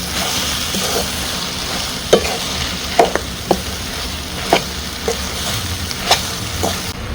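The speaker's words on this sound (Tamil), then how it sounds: "இப்போ பரோட்டாவை இறக்கி விட்டு நல்லா கிண்டி விடலாம்." Egg kothu parotta being stirred and tossed on a hot pan: a loud, steady sizzle with sharp scraping and clanking hits from the spatula at irregular intervals, close and without speech.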